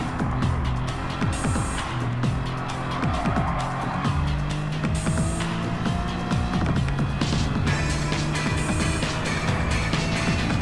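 Race cars roar around the track on the final lap, engines whining and shifting pitch as they pass close, with tire squeal and skidding, loud and continuous without talking.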